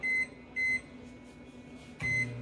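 A microwave oven heating corn tortillas gives three sharp, close electronic beeps spaced apart over its steady low running hum, with the last beep followed by a thud as the door opens.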